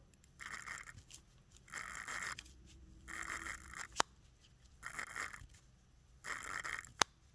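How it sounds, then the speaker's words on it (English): Orient Bambino Gen 2 automatic watch being hand-wound at the crown, a soft, gritty sandpaper-like rasp in five short bursts with brief pauses between, plus a couple of faint clicks. "When winding these, they both make a sort of sandpaper-like sound."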